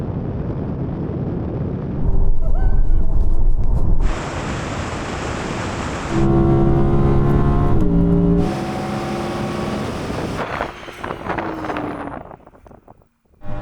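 A car in a drag race against Ken Block's Hoonitron, an Audi R8 GT and an Audi RS e-tron GT reaches its rev limiter at about 140 mph. Loud wind roar and road rumble surround a steady engine drone that holds one pitch before fading out.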